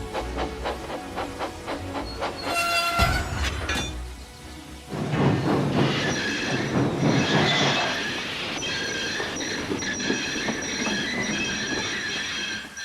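A steam engine labours against the load of a train, with metallic wheel squeals and hissing steam running throughout, loud and close, and bursts of chuffing effort between quieter stretches.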